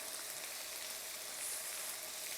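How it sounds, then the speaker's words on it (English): Mixed vegetables sautéing in a hot pan give a steady, even sizzle and crackle, close and continuous with no pauses. "We'll let it saute and get pan fried"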